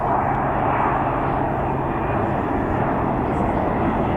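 Ryanair jet aircraft at Birmingham Airport: a loud, steady broadband engine roar sustained throughout, close and powerful, with no talk over it.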